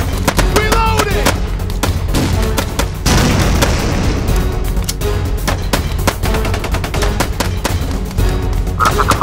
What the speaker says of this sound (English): Contact. Return fire.